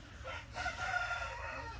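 A Java rooster crows once, a drawn-out cock-a-doodle-doo heard at moderate distance, with no voices.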